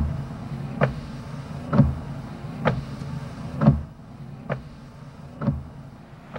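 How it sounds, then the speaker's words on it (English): BMW windshield wipers give soft, regular thunks, about seven evenly spaced muted knocks roughly a second apart over a quiet interior hum. "The gentle thunk thunk of the windshield wipers."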